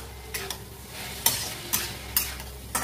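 Onions sizzle in a pan for chicken Hakka noodles while a utensil stirs them, giving sharp scraping strokes at an irregular rhythm over a constant soft frying hiss.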